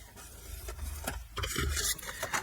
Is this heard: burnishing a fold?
yes